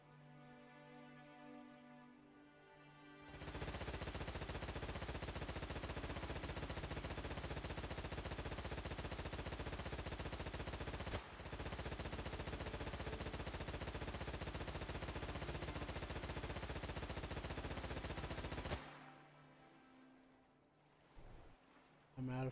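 Sustained, dense burst of video game gunfire lasting about fifteen seconds, loud and continuous with one brief break, in a naval combat game with torpedoes, framed by quieter stretches before and after.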